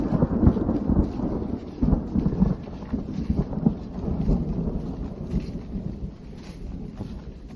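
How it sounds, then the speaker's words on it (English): Rolling thunder rumbles low and heavy while steady rain patters down throughout on the Appalachian Trail, with occasional louder cracks and booms. "That is the sound of thunder."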